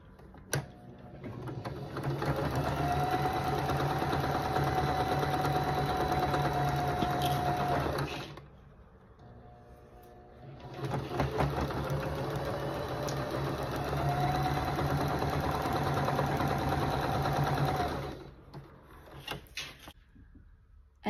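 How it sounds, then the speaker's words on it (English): Sewing machine stitching quilt pieces of half-square triangles together, running in two long steady whirring passes of several seconds each, separated by a short quiet pause, close and without talk. "sewing it together again with the seams lined up"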